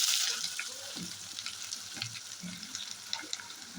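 Onion and green chillies fry in a pan for a prawn curry, a quiet sizzle with a burst of hiss at the start, followed by light stirring scrapes and small taps.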